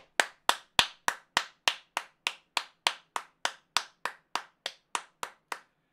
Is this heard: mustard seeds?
no